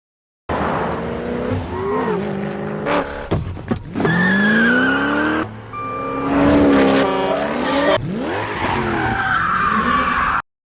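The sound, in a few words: car driving fast with tires skidding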